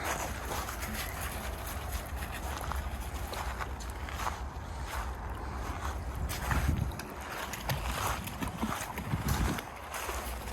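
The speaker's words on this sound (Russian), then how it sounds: "И здесь вот смотрите, какой этот хороший водопадик." A small waterfall pours steadily into a fish pond, giving a continuous close splashing rush with irregular brighter spatters throughout.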